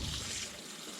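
Water from a cold tap gushes steadily into the outer bucket of a homemade ice cream freezer, a broad hissing pour that eases and thins partway through, with no voices.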